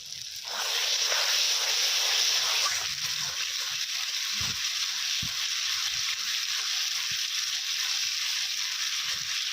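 Onion and tomato, already cooked down, sizzle in a pan as ginger-garlic paste goes in, cooked at a family picnic; a steady, bright frying hiss runs throughout, with occasional soft stirring knocks underneath.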